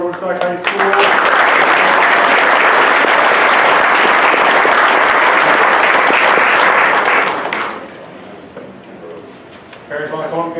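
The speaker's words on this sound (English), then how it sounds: "Big round of applause for Woodstock High School." Loud, sustained applause from a Woodstock High School board meeting crowd, dense clapping lasting about seven seconds before tapering off, with voices returning at the end.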